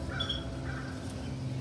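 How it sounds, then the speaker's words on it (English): Harsh bird calls, likely crows cawing, sound a few times at moderate distance over a steady low background hum. "Listen to the crows sing."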